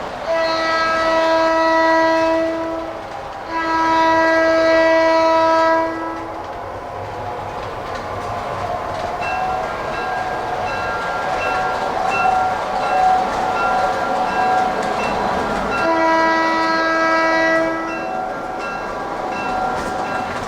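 Lionel and MTH standard gauge toy trains run on a museum layout, with loud horn blasts sounding three times over a continuous rolling rumble and track clatter, no talking.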